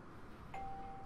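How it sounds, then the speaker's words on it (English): A single electronic doorbell chime rings out clearly, a clean sustained tone over a low background hum, in the video game Persona 4 Golden. "Doorbell."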